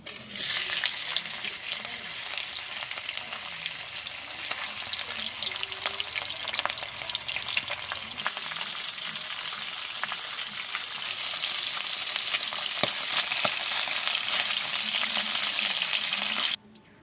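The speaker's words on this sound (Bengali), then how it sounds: "তেলটা গরম করে নিয়ে রুই মাছের মাথাটা ভালো করে ধুয়ে রেখেছিলাম এবং লবণ হলুদ মাখিয়ে রেখেছিলাম, সেটা আমি এখন ভেজে নিচ্ছি।" A rohu fish head, rubbed with salt and turmeric, fries in hot mustard oil with a loud, continuous crackling sizzle that holds steady throughout and cuts off abruptly at the end.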